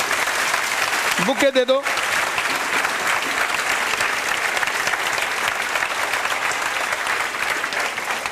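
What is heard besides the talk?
students clapping loudly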